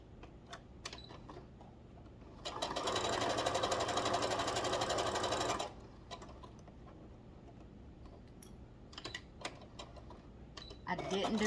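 A sewing machine stitches fabric for Mickey ears in a steady run of about three seconds, with quieter handling clicks and soft talk before and after.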